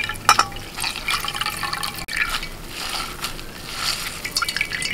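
Watermelon juice strained through a white cotton cloth, with wet squeezing and dripping sounds amid soft cloth rustles and small handling clicks, close and fairly loud.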